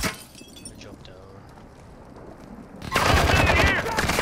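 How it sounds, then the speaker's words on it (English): Gunfire in a Call of Duty: Modern Warfare II Warzone trios match: quiet at first, then a loud, dense burst of shots erupts and continues to the end, with players talking over it. "Someone's shooting at our left here."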